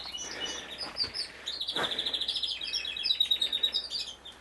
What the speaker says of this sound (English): But we got some canaries and finches in here,